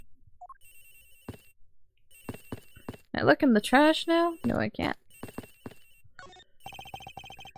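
Telephone ringing in a video game, a repeated electronic ring in regular bursts with pauses between, interrupted midway by a voice talking.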